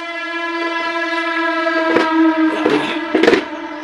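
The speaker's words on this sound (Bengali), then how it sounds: "এত ট্রেনের আওয়াজ হয় না, মনে হয় ঘরের মধ্যে ট্রেন ঢুকে আসছে একদম" A train horn blares loudly with sustained harmonic tones, joined by rumbling and clattering bursts of a nearby passing train.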